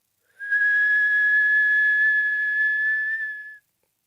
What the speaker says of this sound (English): You're going to whistle in through the mouth.